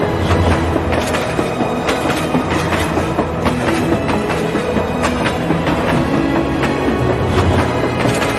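A passenger train bound for Mumbai rolls steadily along the tracks, with continuous loud rumble and rhythmic clickety-clack of wagon wheels over rail joints, no voices present.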